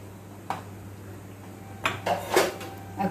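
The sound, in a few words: stirring and mixing chicken thukpa in a pot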